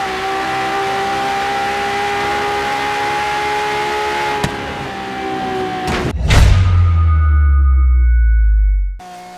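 A Ferrari engine in the racing game Forza Horizon 3 holds a loud, steady high-revving tone for several seconds. It cuts off abruptly into a lower, deeper rumble and then stops.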